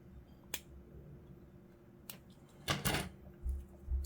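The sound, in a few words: scalpel trimming mould lines on a model figure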